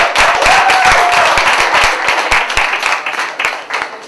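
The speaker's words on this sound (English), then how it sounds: "Applaud the poets." A poetry slam audience in New York City applauding the poets, loud dense clapping with some sharp individual claps that gradually thins out.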